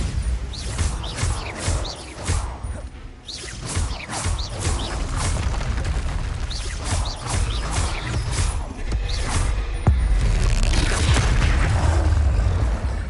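Spell explosions from Confringo and Bombarda in the video game Hogwarts Legacy, played on PS4, give dense repeated booms and crashes with rumbling low end, layered with game effects and continuing loud across the whole stretch.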